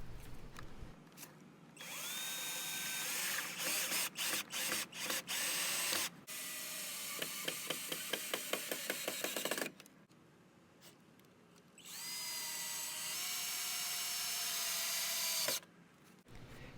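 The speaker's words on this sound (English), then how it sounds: "I used 2-inch wood screws to tighten everything together in various places wherever I could get good contact between the walls." A power drill drives 2-inch wood screws into recycled pallet boards, its motor whining in long sustained runs that rise as each screw seats, broken by short stuttering trigger pulses and brief pauses; no voices.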